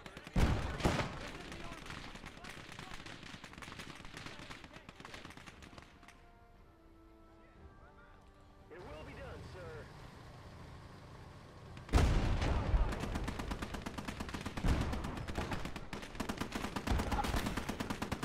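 Gunfire in Call to Arms Ostfront during a battle: dense rapid shots at first, a quieter lull, then a loud heavy cannon-like blast followed by continued close shooting.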